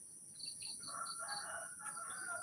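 A white and red rooster crows outdoors in Thailand, a fairly faint, drawn-out call heard at a distance against a steady high insect buzz, with no talking.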